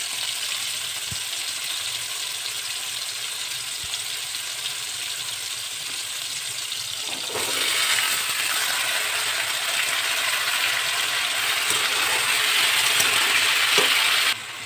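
Pumpkin and potatoes fry in oil in a pan, a steady close sizzle that grows louder and brighter midway as more pieces go in, with occasional light clinks and no talking.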